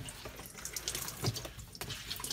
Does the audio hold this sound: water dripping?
yes